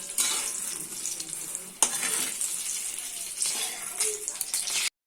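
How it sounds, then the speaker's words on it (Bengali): Eggplant slices frying in oil in a pan in a village kitchen, with a steady close sizzle that holds throughout, one brief sharp clatter partway in, and then a sudden stop. "বেগুনগুলো লাল লাল করে ভেজে নিয়েছি"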